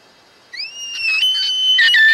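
Blown on a clear tube double-reed call, a bull elk bugle imitation rises into a long, steady high whistle that swells louder and holds with slight wavering, close and alone.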